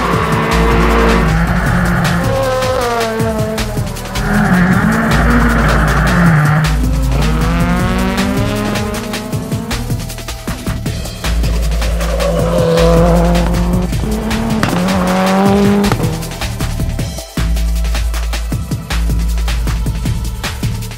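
Rallycross cars on a circuit at Słomczyn during training runs, engines loud and constant near the microphone while tires squeal and skid repeatedly through the corners, with revs rising and falling continuously and no voices.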